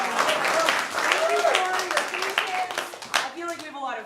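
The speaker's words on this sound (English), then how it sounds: "Give yourselves a big round of applause for being here" An audience at an improv class show gives a lively round of applause, dense hand-clapping with scattered whoops and cheers that thins out toward the end.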